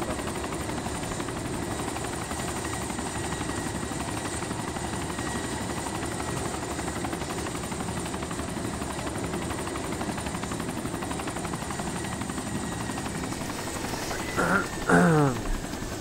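A helicopter in the DayZ video game hums constantly with a steady rotor and engine drone throughout, joined near the end by a brief louder burst of nearby game noise.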